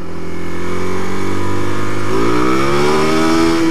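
A Suzuki DRZ400 motorcycle engine revs loudly and steadily on a roll-on of the throttle during a wheelie attempt, its pitch climbing toward the end, with no talking.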